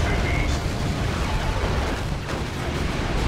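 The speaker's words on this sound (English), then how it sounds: "Here are the silencers, effective against infantry" Purgation squad silencers fire in Dawn of War II: Retribution, a dense, continuous roaring blast of inferno gunfire that crackles and sputters without pause in a busy battle mix.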